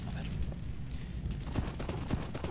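Horse hooves clopping in the strategy game Age of Empires II, a rapid steady patter of hoofbeats heard close under ongoing game sounds and a speaking voice.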